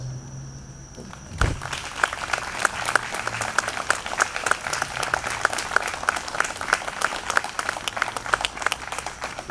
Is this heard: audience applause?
yes